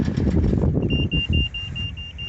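A rapid series of high electronic beeps repeats steadily under a rumbling engine and some low background noise.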